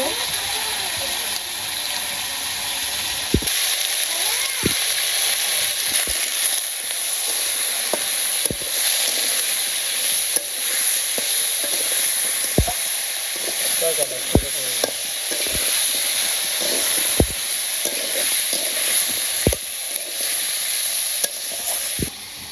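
Vegetables with salt, turmeric and chili sauté in a pan in a village kitchen, giving a constant hiss with regular sharp knocks of a spatula on the pan, close up.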